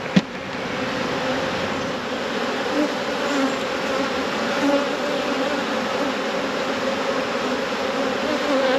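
Honeybees swarm around an opened beehive during an inspection, a dense, steady buzzing hum that fills the scene up close and continues without pause.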